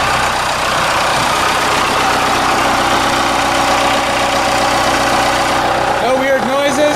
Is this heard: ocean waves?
no